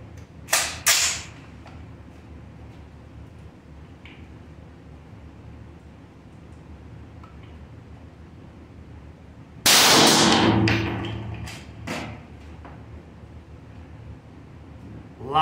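A rifle round fired from about ten feet at a Steel Ops steel armor plate, heard as a sharp crack with a metallic strike, then a louder blast near the middle with a ringing, decaying tail and a few later clicks.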